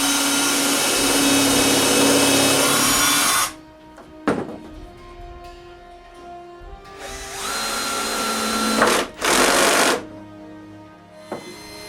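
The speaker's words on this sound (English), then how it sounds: "Now I can mark, drill, and temporarily screw the base to the case." A power drill whirs steadily for several seconds into wood, stops, then runs again in two shorter bursts driving screws, separated by a sharp knock and quieter handling noises.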